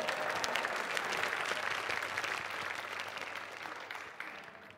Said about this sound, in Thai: อเสียงปรบมือให้แหวนด้วยค่ะ